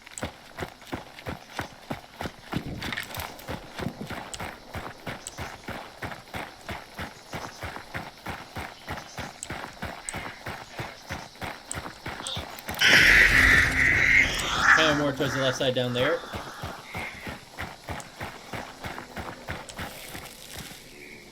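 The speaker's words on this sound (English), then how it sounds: "That horse is alive." Horse hooves in a video game pound in a steady, rapid rhythm throughout, with a person talking briefly over them and a louder burst of mixed game noise partway through.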